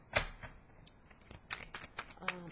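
Quick riffling and soft slaps of tarot cards being shuffled, several short bursts in a row, close and fairly quiet.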